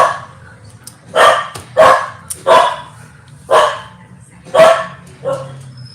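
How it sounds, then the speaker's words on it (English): A dog barks six times in an uneven series of sharp, loud barks close by, with short gaps between them and no talking. "My dog."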